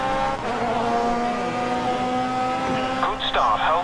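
Race car tires squeal while drifting in Grid Autosport, a loud sustained whine riding over the engine's steady drone, with the squeal rising near the end.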